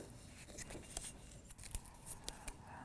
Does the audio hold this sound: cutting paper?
yes